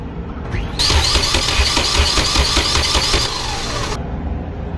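A Nissan 200SX with a freshly swapped bigger turbo cranks over without starting, a steady loud rhythmic starter churn lasting about three seconds before cutting off.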